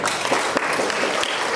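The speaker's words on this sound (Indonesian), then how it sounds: "Tepuk tangan untuk kemuliaan Tuhan." A church congregation at a Christmas opening service claps together in a dense, steady burst of applause that fills the room, with no speech over it.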